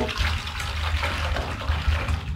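Cleaning product is swirled into a basin of water to make a foamy wash for air-conditioner filters, with close, busy sloshing and splashing that runs the whole time.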